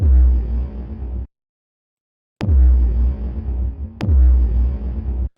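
Three heavy, distorted rawstyle kick drum hits made in FL Studio, the tail boosted before distortion, each with a long booming tail, separated by clean silence and a sharp click at each attack.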